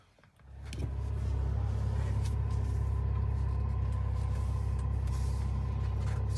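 A BMW 6 Series engine starts up from quiet and settles into a steady, close, low rumble that holds evenly throughout, with no talking.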